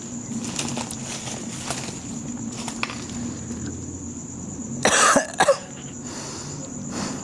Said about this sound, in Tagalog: Pasensya na, inuubo ako